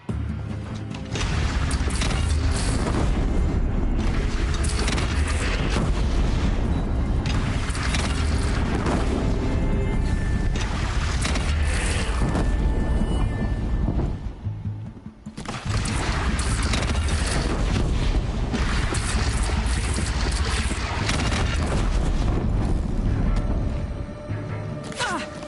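Booming cannon fire in a battle in the video game Horizon Zero Dawn, heavy repeated blasts and rumbling explosions under a dense, loud game soundscape that briefly drops out midway, with voices speaking at points.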